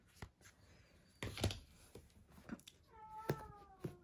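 A house cat meowing indoors, a few short rising meows near the mic amid light tapping and handling clicks, with no talk.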